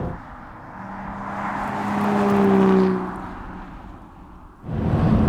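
A BAE Vantare, a reworked Aston Martin, drives along with a smooth, cultured engine tone that swells as it pulls harder, eases off, then rises again, loud and close with no talking.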